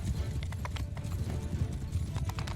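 Galloping cavalry in the medieval battle game Mount & Blade 2: Bannerlord, a dense, continuous drumming of many hooves with occasional sharper thuds, steady and fairly close throughout.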